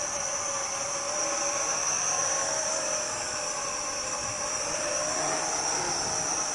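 A small VISUO XS809W mini quadcopter, a folding Mavic-style clone, whines with a steady high-pitched propeller buzz at close range, holding a constant tone while it hovers and comes down to land outdoors in wind.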